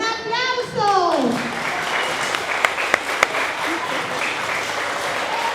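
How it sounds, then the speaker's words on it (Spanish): Crowd applause in a room rises after a brief stretch of voices and carries on as a steady, dense wash of clapping, with a few sharper claps standing out near the middle. "Así es, un aplauso."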